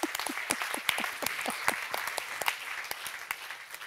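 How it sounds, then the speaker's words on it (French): An audience at a live advertising awards show breaks into applause, a dense, close patter of many hands clapping steadily throughout. "Merci de les applaudir."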